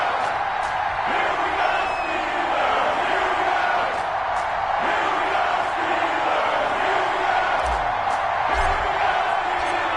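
Stadium crowd roaring and cheering before a Cleveland Browns versus Pittsburgh Steelers matchup in an EA Sports football video game, a dense steady wash of crowd noise with occasional whoops and thuds throughout.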